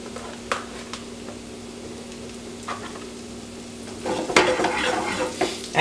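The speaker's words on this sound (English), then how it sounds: "right now, we're just gonna add in our mushroom" Mushrooms hit a hot pan in a steak recipe. A faint background hum and a few light clicks give way to a bright, crackling sizzle that swells and continues to the end.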